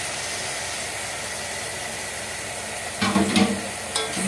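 Chicken liver, gizzard and neck dropped into spice masala in a pan, a continuous sizzle and hiss with a burst of louder spattering and scraping near the end, no talking.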